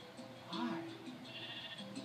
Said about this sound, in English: How did four sheep spawn on here?